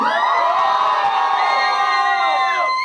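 A crowd at a film promotion event screams and cheers loudly for almost three seconds, a dense wall of high-pitched voices sustained close by, then fading at the end.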